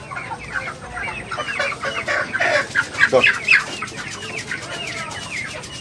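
Chickens cluck steadily and busily at a market stall selling poultry, close and overlapping. A voice speaks briefly among the birds.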